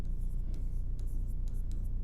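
Pen or chalk writing out a geometry proof about a rhombus in a quadrilaterals lesson, a steady faint scratching with a few brief sharper strokes over a low constant hum, no voices.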